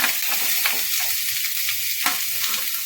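Carrots, corn and capsicum tossed in a hot frying pan make a bright, loud sizzle with repeated scraping stirs and a sharper spatula knock near the end.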